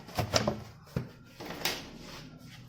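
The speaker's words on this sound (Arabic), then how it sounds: "ده معنى الباب هيدروليك" A hydraulic oven door on a double-glazed electric oven thumps and clacks shut in a few close knocks and rattles, each settling quickly, with no voices.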